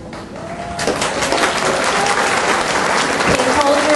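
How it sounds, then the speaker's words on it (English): Applause from an audience at an elementary school fall festival swells in after a moment of quiet and holds as sustained, dense clapping, with a voice audible over it. "Please hold your applause until all of our representatives have been recognized."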